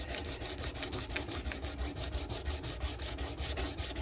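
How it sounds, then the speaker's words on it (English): Worn sandpaper rubs back and forth over wood by hand in quick, even strokes, a soft rhythmic scratching heard up close with nothing else over it. "Get the last little bit of life out of this sandpaper."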